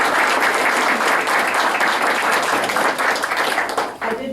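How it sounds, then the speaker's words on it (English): People at a county commissioners meeting clap together in a steady, fairly loud round of applause that tapers off near the end. "Another round of applause."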